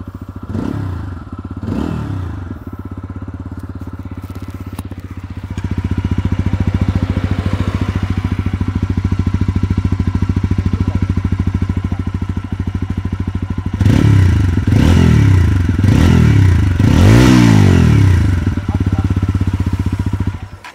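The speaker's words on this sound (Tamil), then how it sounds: "ஸோ வண்டியோட சவுண்டு கேட்டிருப்பீங்க." A 2025 TVS Apache 160 4V base model motorcycle engine starts and settles into a steady idle, then revs sharply several times, loud and close with some mechanical clatter.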